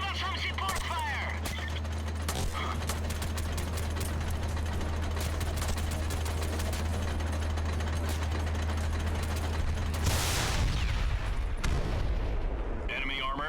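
Support fire hitting enemy armor in the video game SOCOM II, with a dense rumbling engine drone under rapid bursts of gunfire and a loud blast near the end, fairly close.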